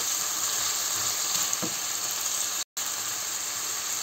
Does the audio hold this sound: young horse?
no